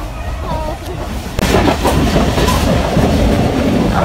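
The Rehman Baba Express, a passenger train, runs on rails toward a tunnel, giving a loud, continuous rumble and roar that swells abruptly partway through, with rhythmic clatter under it.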